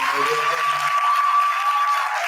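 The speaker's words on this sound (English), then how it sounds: "We are going to give Amit the loudest round of applause and the longest one that we can." A crowd at a live history talk in Orlando applauds loudly and steadily as a dense, unbroken wash of clapping, with a brief voice under the start.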